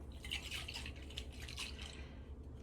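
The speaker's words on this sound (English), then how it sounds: "I just poured some broth in there to grab that" Chicken broth for a crockpot bacon chicken chowder is poured into a jar, giving quiet liquid trickles and drips in short bursts, with no talking.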